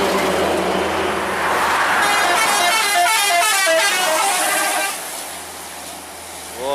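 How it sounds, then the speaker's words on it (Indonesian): A PMH Nauli Basah intercity bus on the Medan to Pangkalan Kerinci route roars past on the road, sounding a loud, rhythmic musical horn over several seconds before its engine noise drops away. "Bus PMH Nauli Basah tujuan Medan ke Pangkalan Kerinci."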